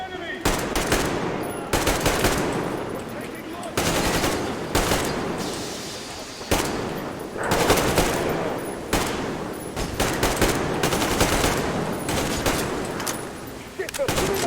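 Enemy gunfire in the video game Metro Exodus, dense rattling bursts that come and go in loud waves, with brief talk underneath.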